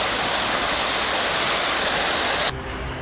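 Fast river current rushing in a steady, loud broadband roar that runs unbroken and close, then drops sharply in level near the end.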